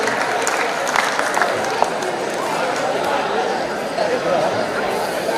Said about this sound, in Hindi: आप सब इनके लिए जोरदार तालियों से इनका स्वागत कीजिए